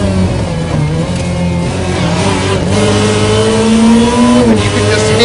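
Loud supercharged rally car engine roaring close by, revving and shifting pitch as it accelerates, with a strained supercharger whine over the rasp.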